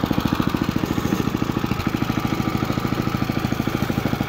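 A Snapper 7/24 walk-behind snowblower engine runs steadily nearby, its rapid, even putter pulsing throughout with no voices.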